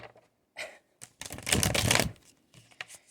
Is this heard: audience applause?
no